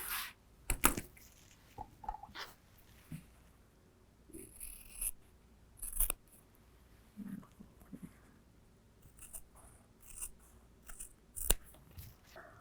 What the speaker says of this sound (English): And I'll use scissors to cut these out.